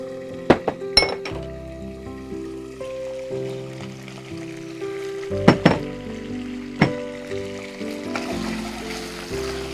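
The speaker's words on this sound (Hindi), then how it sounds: "अदरक लहसुन और हरी मिर्च भी अच्छे से ये भुन गया।" Ginger, garlic and green chili frying in a pan, a soft sizzle under repeated sharp metallic clinks and clanks of a utensil against the cookware.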